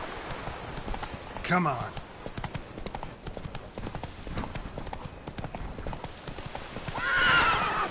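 Roach the horse in The Witcher 3 gallops with a steady clip-clop of hooves, a sharp whinny near the start and another at the end, while someone talks over the hoofbeats.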